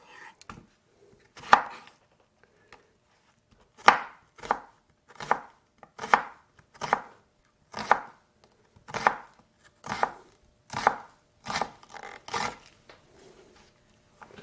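A knife chops onion finely on a board: a single cut, then a steady run of about a dozen crisp, evenly spaced chops, close and clear with silence between strikes.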